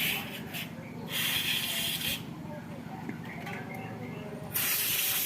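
Compressed air from an air compressor blasts over motorcycle parts in a Honda Beat electrical repair, hissing loudly in bursts that start and stop with short pauses between them.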